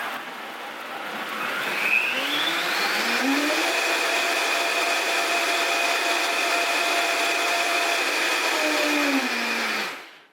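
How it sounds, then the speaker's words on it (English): A blender making oat milk whirs steadily and loudly for about ten seconds, its motor pitch shifting slightly as it runs, then cuts off abruptly. "I stop the blender before I stop the stopwatch."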